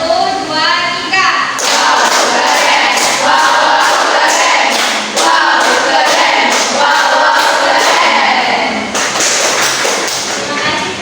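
A group of children clapping together in a rhythmic pattern in a classroom, with sharp repeated claps and some voices mixed in, fairly loud and close.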